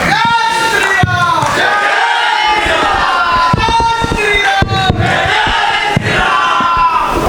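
A large audience at a late-night Hindi poetry gathering gives a loud crowd roar with cheering and shouted chants in place of clapping, sustained and close as the poet is welcomed.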